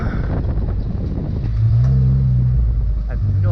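A Mitsubishi Mirage with a swapped engine revs off road on a trail, a loud close engine drone that swells and holds steady under wind buffeting.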